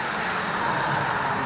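Background car traffic on a nearby road, a steady broadband roadway rumble and hiss with no distinct events, moderately loud and unbroken, with no voices.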